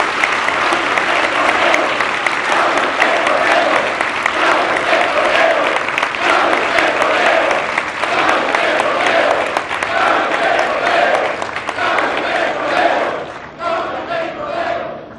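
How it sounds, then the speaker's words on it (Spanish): Loud, sustained applause from a large crowd at a political speech in Mexico, honoring Pemex workers, steady throughout and thinning slightly near the end, with faint cheering mixed in. "Un aplauso grande a las y los trabajadores de Pemex"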